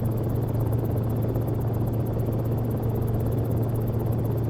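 A Cicare 8 helicopter in the X-Plane flight simulator drones with a steady low rotor hum and continuous engine buzz, even and unbroken throughout.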